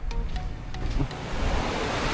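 Wind buffets the microphone in a steady broadband roar, rising toward the end, with no voices.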